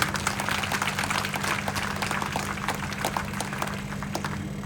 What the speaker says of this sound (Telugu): కాబట్టి వారికి ఒకసారి ఇంకోసారి గట్టిగా చప్పట్లు